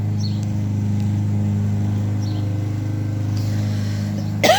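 Neighbor's lawnmower droning steadily nearby, a loud constant engine hum with strong low harmonics, unchanging throughout with a brief burst of noise at the very end.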